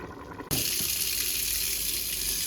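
A kitchen tap suddenly opens full to rinse rice for pilaf, a loud, steady rush of running water splashing into a sink and carrying on without a break.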